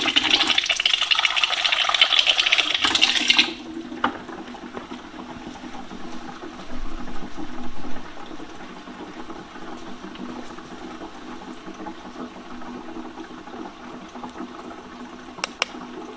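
Filtered water pouring into a glass, a bright rushing splash for about three seconds that stops abruptly, followed by quiet room ambience with faint trickles.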